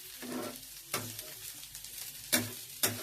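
Carrots and ivy gourd sizzle uncovered in a pan over medium-high heat, a soft steady frying hiss punctuated by three or four sharp scraping stirs of the spatula, close and quiet, with no speech.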